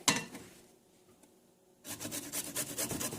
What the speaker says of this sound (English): we're going to grate the ginger and the garlic